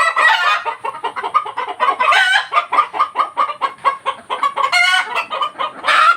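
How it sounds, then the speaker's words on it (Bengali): Hens cluck in a busy, rapid run of overlapping calls close by, with a louder squawking burst midway and another near the end, no talking, around a laying coop in the morning. "এই যে একটা মুরগি যাচ্ছে"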